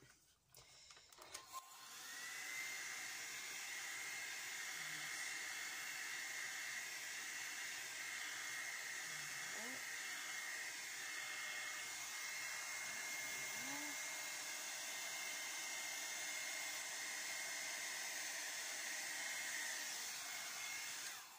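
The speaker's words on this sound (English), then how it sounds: "I've got my air dryer on the cool setting at the moment" A hair dryer blows steadily on a cool setting, a continuous airy whir with broadband hiss that holds level throughout, close and loud.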